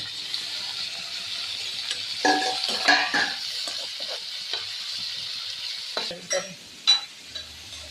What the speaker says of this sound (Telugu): వేసి బాగా వేయించాలి ఫ్రెండ్స్